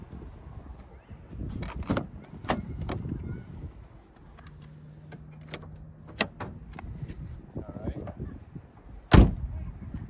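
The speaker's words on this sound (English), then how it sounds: "And then Josh, if you could go pull the hood lever in there." A Pontiac G8 with an LSA engine has its hood release lever pulled: scattered light clicks and handling noises lead to one sharp thunk near the end, with faint talk nearby.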